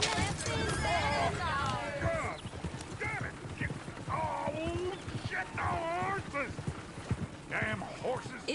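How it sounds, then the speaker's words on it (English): Horses in the video game Red Dead Redemption 2 whinny repeatedly and stamp with clip-clopping hooves near a stagecoach. Loud character voices speak over them. "Damn horses!"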